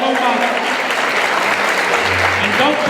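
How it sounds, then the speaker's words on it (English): A crowd claps steadily and warmly throughout for panelists at a citizens' forum, a dense wash of applause with a voice faintly underneath. "Let's have a round of applause for the panelists"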